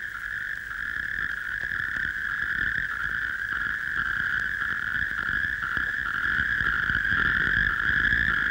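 Natterjack toads croak in a continuous chorus, a steady buzzing trill that carries on without a break and holds an even, fairly loud level throughout.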